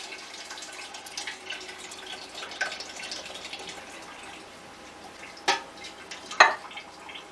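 Homemade chicken broth, partly still frozen, is poured into a soup pot for lentil soup, making a soft, continuous liquid trickle with gentle splashes and a few louder sloshing drips toward the end.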